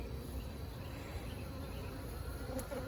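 Honey bees swarm around stacked hive boxes, a steady, close insect hum holding evenly throughout with no talking.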